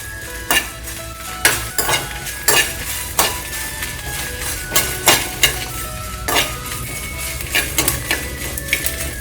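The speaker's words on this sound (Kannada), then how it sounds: "ನಿಮ್ಮ ಖಾರದ ರುಚಿಗೆ ತಕ್ಕಷ್ಟು ಒಣಮೆಣಸಿನ್ಕಾಯಿ, ಹಾಕೊಂಡು ಚೆನ್ನಾಗಿ ಹುರ್ಕೊಳ್ಳಿ." Dry red chillies roast in a pan while a utensil stirs them, giving repeated sharp metallic scrapes and clinks in an uneven rhythm over a low sizzle, close by with no speech.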